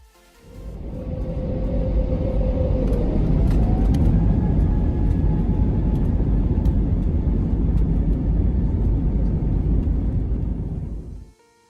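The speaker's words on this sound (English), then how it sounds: "I decided to speed up the takeoff out of DFW" A Frontier Airlines A320neo takes off from DFW, heard from inside the cabin as a loud, steady jet roar. Engine thrust builds at the start, a rising whine runs through it, and the roar holds until an abrupt cut at the end.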